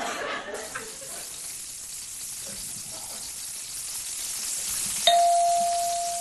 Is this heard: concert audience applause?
no